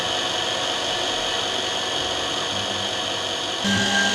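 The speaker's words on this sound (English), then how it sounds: "Press the lever to start drilling." A steady, loud mechanical whir of a Canton CT5412 eyeglass lens drilling machine runs throughout, with a slight lift in pitch and loudness near the end.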